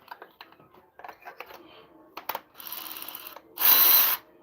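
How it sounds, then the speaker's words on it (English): A hand ratchet works loose the oil drain plug on a 2008 BMW X3, a run of quick clicks and taps, then louder sustained rasping and grinding bursts up close. "I'm gonna put the ratchet on it"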